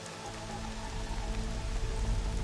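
Steady rain pattering on surfaces in the game Horizon Zero Dawn, a dense even hiss of drops with a low rumble beneath, continuous and moderately loud with no voices.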